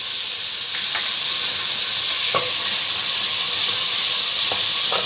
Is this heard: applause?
no